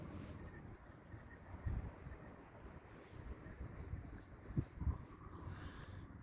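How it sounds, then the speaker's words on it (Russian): Gusty wind rushes around small wind turbines in stormy weather, a low rumbling buffet that swells and fades with several sharper gusts hitting the microphone. "Ветер то появляется, то исчезает."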